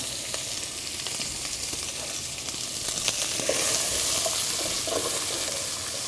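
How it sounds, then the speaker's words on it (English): Onions frying in hot olive oil in a large pot, a dense, steady hiss and crackle that grows a bit louder midway, with light stirring clatter near the end. "once our oil is nice and hot, we're gonna go ahead and add our onions."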